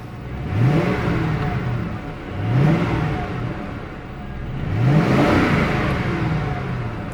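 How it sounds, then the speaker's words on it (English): A 2007 Lincoln Town Car engine revs up three times, each rise swelling then falling back to a steady idle, loud and close. "I'll rev the engine a couple times here for you."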